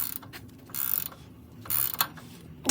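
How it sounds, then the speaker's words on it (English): A ratchet hand-tightens a front shock bolt on a Toyota Land Cruiser 100 Series, heard close as a few bursts of rapid clicking separated by short pauses. "We're just going to tighten it until we feel like we can't arm tighten it anymore."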